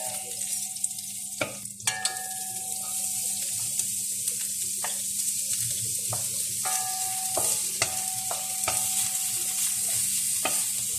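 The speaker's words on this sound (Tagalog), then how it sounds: "mix din until golden brown ang ating sibuyas" Onions sizzle steadily in a pan while being stirred and fried until golden brown, with repeated sharp clicks and scrapes of a utensil against the pan over a continuous frying hiss.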